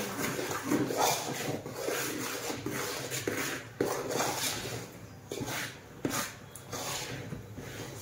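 Spoon scraping and knocking around a pot while chakli flour dough is stirred and mixed, a steady close-up rubbing and clatter with a few sharper knocks, no talking.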